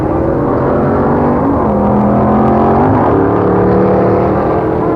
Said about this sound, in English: automobiles designed to do only one thing: accelerate for that 1/4 of a mile